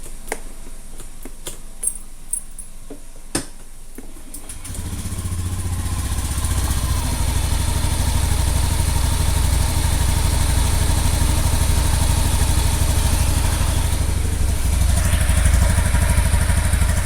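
A motorcycle engine, in good condition and running on fuel of adequate octane, starts after a few clicks and settles into a steady idle with even, consistent combustion pulses, loud and close.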